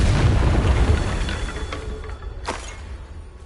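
A Confringo fire spell exploding in Hogwarts Legacy: a deep, loud boom that rumbles and slowly fades, followed by a sharper single burst near the end, with no voices.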